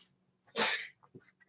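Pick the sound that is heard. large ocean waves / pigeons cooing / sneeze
sneeze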